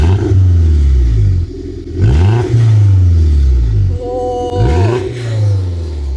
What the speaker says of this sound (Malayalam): പുള്ളി ഇപ്പോൾ ത്രോട്ടിൽ കൊടുത്ത് കാണിച്ചു തരോട്ടാ.